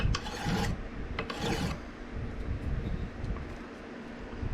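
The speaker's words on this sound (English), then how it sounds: "Now we've got a file. This is a laminate file." A laminate file rasps across the steel tang of a Cold Steel Laredo Bowie knife during a full-tang handle conversion: a few close, brisk scraping strokes, then quieter rubbing.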